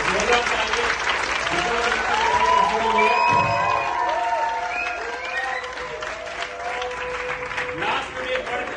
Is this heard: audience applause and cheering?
yes